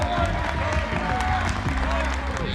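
Crowd at a Boston paintball combine show clapping for Boston Paintball, a steady wash of applause blended with crowd noise and voices, loud and continuous.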